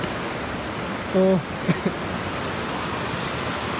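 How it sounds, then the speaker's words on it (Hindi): Steady roar of rushing water at Umbrella Waterfall in Pakistan, a broad continuous wash of sound with someone speaking briefly over it. "हो सकता है मेरी आवाज़ आपको थोड़ी कम आए क्योंकि पानी का भी शोर है यहाँ पे"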